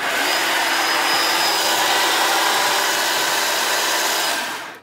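A WORX cordless electric chainsaw working on tree branches gives a loud, steady high-pitched motor whir, held evenly for several seconds before cutting off abruptly at the end, with no talk.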